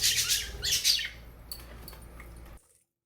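Pet budgies give a few loud, close squawks and chirps in quick bursts at the start, then fade to faint scattered peeps before the sound cuts off.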